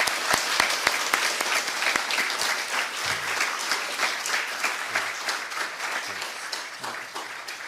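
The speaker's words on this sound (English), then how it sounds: "So a round of applause in his absence to Finlay." Audience at a Scottish Wildlife Trust members day applauding Finlay in his absence: steady, dense clapping from a sizeable crowd, close and sustained, easing slightly toward the end.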